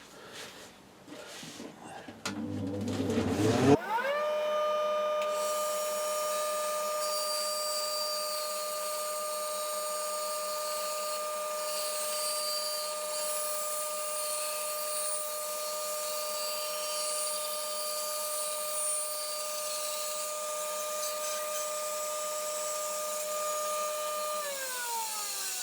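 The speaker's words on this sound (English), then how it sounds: "I'll cut this circle just to show you it working, and it'll get a little bit noisy" A circle-cutting jig saws a wooden circle: a few clunks of setup, then a router-like tool whines steadily and continuously, the pitch holding level for over twenty seconds.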